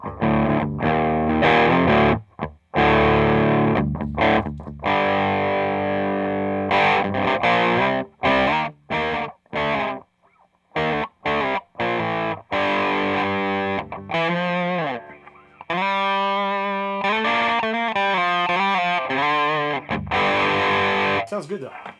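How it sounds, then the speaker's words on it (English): An electric guitar through an Entity overdrive pedal set for mild bite and a little hair plays chords and melodic runs with gentle distortion at fairly low volume, with brief gaps between phrases. "Turn it up a little bit. Gets a little bit of bite"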